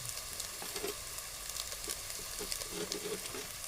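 Kelp flower vegetable sizzles steadily while being sautéed in a pan with Maggi masala, with soft stirring scrapes and crackles throughout. No one speaks.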